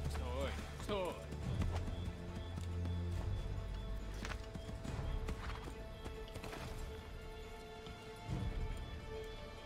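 Horse hooves clip-clop in Assassin's Creed 3, a steady close rhythm of thuds under game ambience, with people talking over it.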